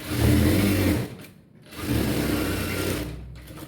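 A sewing machine stitching the neckline of a plain blouse runs in two close, steady mechanical bursts with a brief pause between them, and no talk over it.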